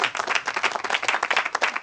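Crowd applauding at a pétanque cup presentation: a close, lively burst of many hands clapping in a rapid, even patter that lasts without a break.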